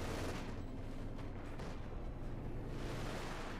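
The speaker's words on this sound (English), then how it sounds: "he's also calling in field propaganda artillery" Field propaganda artillery barrage in Company of Heroes 2, a continuous faint rumble of shelling and distant gunfire layered into a dense, steady wash of battle noise with no clear gaps.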